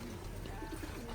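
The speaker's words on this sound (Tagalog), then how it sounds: "Ang dami pa dun sa likod mga kalapatids." Racing pigeons coo softly in a loft during rainy weather, a low murmuring warble repeating at a steady distance against a constant hiss of background noise.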